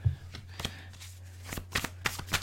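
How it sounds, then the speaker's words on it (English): Close, crisp tarot card shuffling with a series of quick riffling bursts and soft slaps, no voices. "We need 3 more shuffles."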